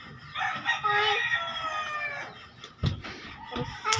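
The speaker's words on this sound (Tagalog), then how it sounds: "Rooster." A rooster crows in a long drawn-out call that fills most of the clip, followed by a few shorter clucks and rustling noises near the end.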